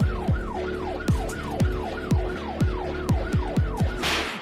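A wailing siren sweeps up and down repeatedly over a steady beat and bass, woven into a song as a recurring musical element.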